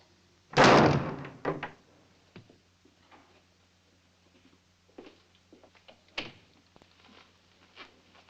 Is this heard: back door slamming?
yes